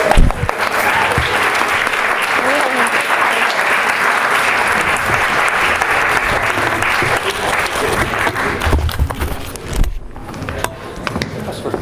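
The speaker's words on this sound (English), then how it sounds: "Give them a round of applause" Audience applause for prize winners at an urban design event, steady, loud clapping from a sizable crowd that carries on for about ten seconds before tapering off.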